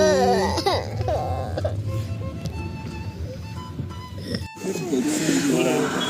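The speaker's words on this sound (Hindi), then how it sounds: "बच्चा रोया" A baby cries in short wailing bursts near the start, on a family trip in snowy Sonamarg, Kashmir, then voices talk over outdoor background noise.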